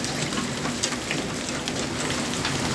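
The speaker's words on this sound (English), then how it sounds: "the water's just roaring down my street" Heavy rain pours down steadily in a dense, constant hiss, with water rushing along a residential street, all continuous and fairly loud with no voices.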